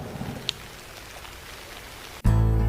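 Steady cold rain with strong wind, a soft wash of falling drops and a few faint taps before a sudden loud, dense roar takes over near the end, with no talking.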